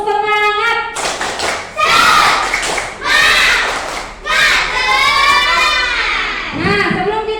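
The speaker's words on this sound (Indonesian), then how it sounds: "tepuk semangat dulu untuk kita semua sebelum diskusi" A school class led by their teacher claps a rhythmic spirit clap before a group discussion, bursts of many hands clapping in patterned sets alternating with children's chanting and a voice.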